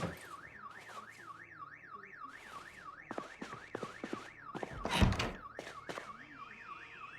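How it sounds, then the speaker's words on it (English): A car alarm in Project Zomboid wails with a rapid up-and-down siren cycle that repeats steadily throughout, moderately distant, with occasional thuds and bangs scattered beneath it. "Well, there goes somebody's car alarm."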